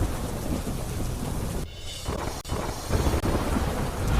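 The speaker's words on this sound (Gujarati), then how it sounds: "મેઘરાજાએ ધડબડાટી બોલાવતા બિહારના બેતિયામાં જળબંબાકારની સ્થિતિ" Heavy rain pours down with thunder over flooded Bettiah in Bihar, a dense continuous hiss with a couple of abrupt breaks and a deep rumble underneath.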